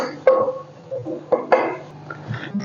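Stirring beef bhuna gosht seasoned with cardamom in a cooking pot: a few sharp spoon clanks against the metal pot among softer scraping and clinking, close and moderately loud, with no talking.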